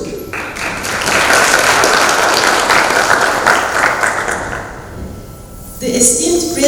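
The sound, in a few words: audience applause at opening ceremony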